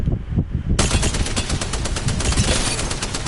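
Rapid automatic gunfire in Apex Legends, a loud close burst of tightly spaced shots that starts after a brief moment of quieter sound and continues steadily to the end.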